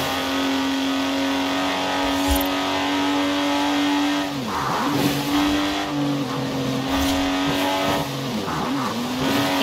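A Lotus sports car driven hard in the racing game Forza Horizon 4, with a loud engine holding a steady tone, then revving and dropping through gear changes, plus brief tire squeal and skid noise.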